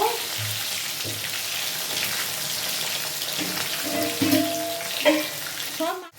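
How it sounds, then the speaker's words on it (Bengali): Fish pieces fry in a pan with an ongoing sizzle, mixed with a few utensil clinks and scrapes and a brief clatter near the end. "সব মাছগুলোকে আমি এইভাবে আস্তে আস্তে ভেজে তুলে নেব।"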